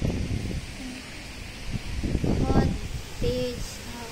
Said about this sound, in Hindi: तेज हवा है